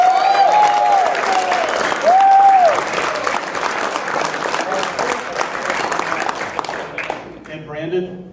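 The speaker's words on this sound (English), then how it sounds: "please, a really rousing applause for Frank" Sustained, loud audience applause filling the room at a reunion program, steady clapping with some whistles early on, fading out near the end.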